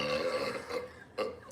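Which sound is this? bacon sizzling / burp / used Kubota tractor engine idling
burp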